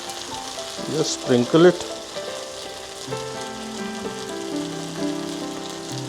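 Okra sabzi frying in a pan with tomatoes going in, giving a steady crackling sizzle and a brief louder burst as they land, while a voice talks over it.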